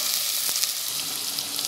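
Onion fries with a steady, loud sizzle in a pan, with faint scraping from stirring mixed in and no talking.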